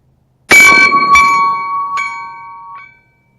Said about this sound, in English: Here's an AR 500 plate at 25 yards, taking a 50 AE from a 10-inch barrel.